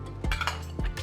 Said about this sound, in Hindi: And then come the spoons.